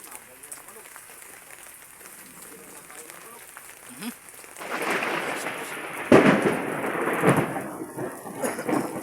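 Heavy rain starts falling midway, rising from a quiet background into a dense roar on a surface, with deep rumbles of thunder building among the downpour, loud and close.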